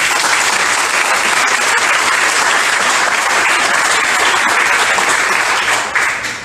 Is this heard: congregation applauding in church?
yes